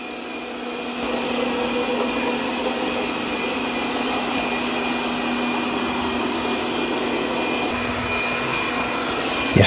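Tikom L9000 robot vacuum and mop running across a floor, a steady, even whirring drone with a constant tonal whine, close and unbroken throughout.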